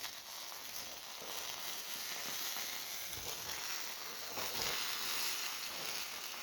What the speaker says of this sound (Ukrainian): воно шкварчить до сих пор.